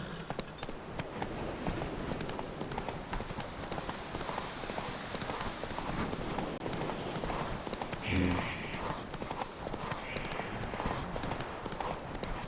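Roach the horse's hooves clip-clop steadily at a gallop through the Witcher 3 game world, a continuous rhythmic patter at moderate level, with voices speaking over it at times.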